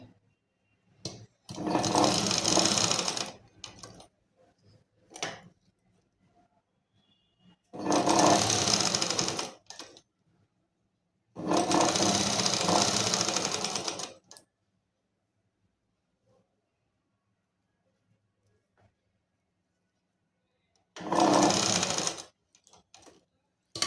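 Sewing machine stitching fabric and lining in four bursts of a few seconds each, separated by near silence and small clicks, loud and close with a steady rapid whirr and no talking.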